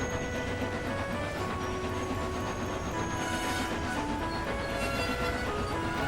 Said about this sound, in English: Just then, Percy heard Henry's whistle as the big green engine pulled into the station with the local train.